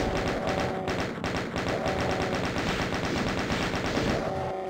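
Rapid gunfire aimed at a Baron in the video game The Ultimate Doom, a steady stream of evenly spaced shots about eight per second, loud and close, continuing without pause.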